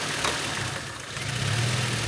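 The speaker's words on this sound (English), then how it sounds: "And you hear the engine now struggles, which means this sensor is good." Car engine idling roughly and struggling right after its mass airflow sensor is unplugged, a steady low rumble with uneven knocking pulses, heard close and alone.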